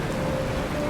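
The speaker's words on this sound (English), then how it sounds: "Raining!" Steady rain hisses evenly throughout, a dense wash of falling drops.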